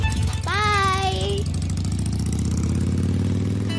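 A motorcycle idles close by with a steady, throbbing low rumble that holds for nearly four seconds, while a brief high-pitched voice rings out over it early on.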